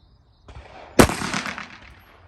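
A single sharp, loud pistol shot from a Beretta 80x firing Underwood ammunition, preceded by a faint click and followed by a brief echoing decay.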